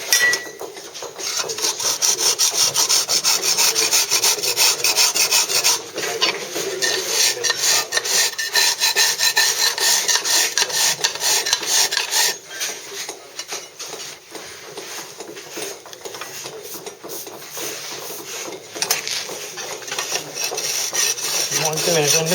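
A drag tool rasps steadily across a Bath stone moulding, giving close, continuous scraping strokes with brief pauses and slight shifts in pressure.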